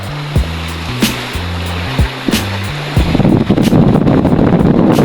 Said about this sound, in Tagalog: Dito pa lamang sa tabi ay malalaki na ang alon